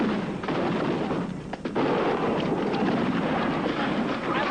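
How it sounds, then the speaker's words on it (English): During the WTO riots in Seattle, a police concussion grenade goes off as a sharp blast against a steady roar of crowd and street noise outdoors. "I was just hit by a concussion grenade by the police"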